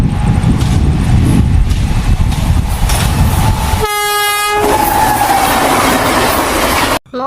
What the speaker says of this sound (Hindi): मोहन ट्रेन से सफर कर रहा था